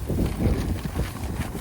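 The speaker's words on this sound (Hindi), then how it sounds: "ठंडी हवा चल रही है बहुत" Cold wind blowing outdoors in a parking area near an Indian grocery store in America, heard as a steady, loud low rumble of wind buffeting the microphone throughout, with no clear voices.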